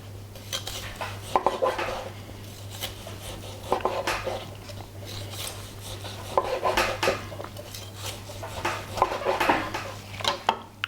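A knife slicing through cooked picanha beef with a crispy fat cap on a board, repeated scraping and cutting strokes with clinks of metal, close and fairly loud.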